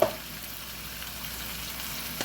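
Onion frying in a pan alongside browned chicken, a steady soft sizzle after a brief clatter at the start, close and moderate, with no talking.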